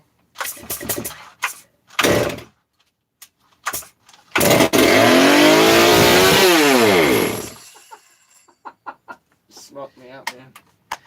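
A Stihl 660 chainsaw engine starts after brake cleaner is sprayed into the intake, then runs loudly at high idle for about four seconds with a sharp pop before cutting out, amid scattered clanks and someone talking.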